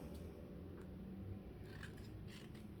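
Cutting vinyl for a DIY Mother's Day craft, likely with scissors: a short, close, dry snipping and scraping, faint but continuous for a few seconds, with no talking.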